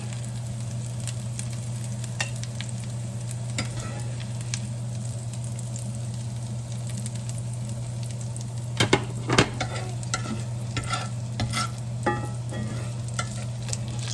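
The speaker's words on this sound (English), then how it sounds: "I'm going to throw my eggs in here and get those cooked up" Eggs fry in a cast iron pan with a constant close sizzle over a low steady hum, and a cluster of sharp utensil clicks and scrapes appears toward the end; no talking.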